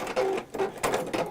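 A sewing machine making an odd noise while stitching, heard up close as quick whirring bursts with a faint squeak inside each short run and no talk over it.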